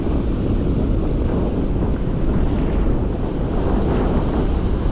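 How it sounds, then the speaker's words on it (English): Heavy surf pounds a rough California beach during surf fishing, a loud, continuous roar of large breaking ocean waves mixed with strong wind buffeting the microphone, with no voices. "The waves are huge today."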